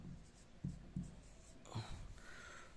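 Pen or chalk writing a number, heard as a few soft taps and strokes, faint and close, followed by a longer scratchy stroke in a quiet room.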